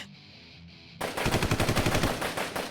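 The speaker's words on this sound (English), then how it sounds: "A barrage of gunfire surged behind" After a quiet second, rapid video game machine gun fire bursts in loudly, a dense rattling stream of shots continuing to the end.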